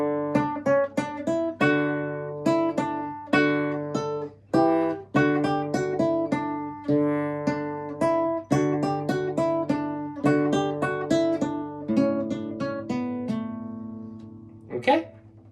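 Classical guitar playing Gaspar Sanz's Paradetas near the bridge, ponticello, giving bright, tinny plucked notes and strummed chords in a steady dance rhythm, close and clear with no talk.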